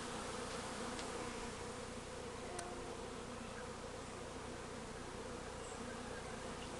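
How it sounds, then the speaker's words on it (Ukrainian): A swarm of honey bees gathered on an apple tree at an apiary gives a dense, continuous buzzing hum that holds steady throughout and stays faint, with no one speaking. "Зловили рій, не знаю чи з пасіки."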